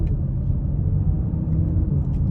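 A 2022 BMW X5 40i engine under manual gear shifts on a twisty road, heard as a steady low rumbling drone from inside the cabin, moderately loud, with no distinct shift breaks and no talk.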